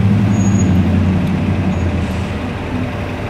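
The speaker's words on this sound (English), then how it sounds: "This bus gonna get stuck." A city bus drives along a Chinatown street at night, its loud, steady low engine rumble close by and continuous, with faint traffic in the background and no talk.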